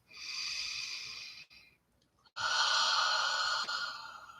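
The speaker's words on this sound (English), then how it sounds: "take a deep and clearing breath" A deep, clearing breath during a gentle yoga and crown chakra meditation: a long, close inhale, a brief pause, then a fuller, breathy exhale that trails off softly.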